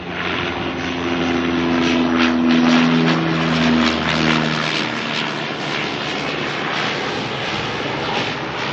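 Air New Zealand Dash 8 turboprop arriving from Palmerston North, a steady propeller drone with distinct low humming tones that waver and fade midway, leaving a continuous rushing airflow; no talking.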